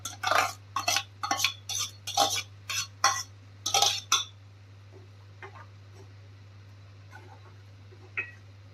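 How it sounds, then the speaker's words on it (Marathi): A spoon scrapes and stirs a spinach gravy mixture into hot oil and spices in a pan for dhaba-style palak paneer: about four seconds of close, rhythmic strokes, then a few faint, scattered clinks. "आता आपण मिश्रण घालून घेऊया."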